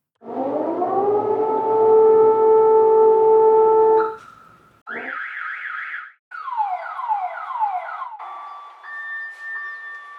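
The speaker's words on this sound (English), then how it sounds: "so these are location recordings with alarms" A string of electronic alarms recorded on location: a long rising siren wail, then a warbling tone, repeated sweeping chirps and a steady beeping alert, loud and close.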